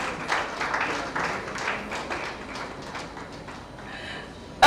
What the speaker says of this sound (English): Can we give him a round of applause as he makes his way to the stage